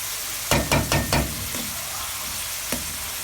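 Potato tikki fry in a pan with a steady oily sizzle, broken by several quick scraping stirs early on and one more later.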